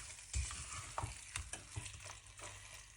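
South Indian chicken curry being stirred in a pan, quiet, with repeated scraping strokes of a spoon over a soft continuous sizzle.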